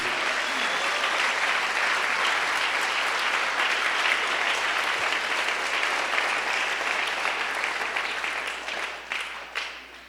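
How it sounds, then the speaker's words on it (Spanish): A congregation at a church worship service claps in sustained, even applause for about ten seconds, loud and steady before tapering off at the end. "¿Alguien le puede aplaudir?"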